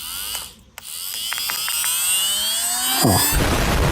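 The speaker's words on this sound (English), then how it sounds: "I started dremeling down all these surfaces, getting rid of all that flaky paint" A cheap handheld Dremel-style rotary tool grinds flaky paint off motorcycle parts. It gives a close, high whirring buzz that dips briefly, then rises and shifts pitch as it bites into the metal.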